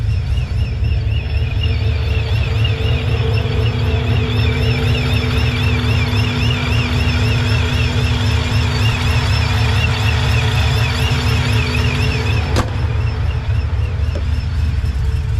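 A 5.3 Chevy Silverado truck with long tube headers drives along, its engine a steady, loud low rumble with whining tones above throughout, one brief sharp click near the end.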